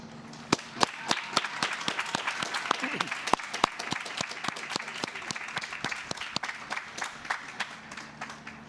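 A crowd at a college commencement claps steadily, a dense patter of many hands with a few sharp, loud claps standing out nearby.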